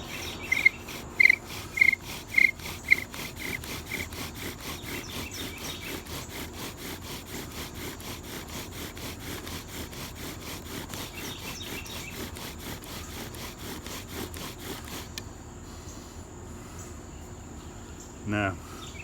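A bow drill spindle rubs back and forth in a red maple board with a rhythmic rasping stroke, fairly quiet and close. The strokes go on for about fifteen seconds before stopping.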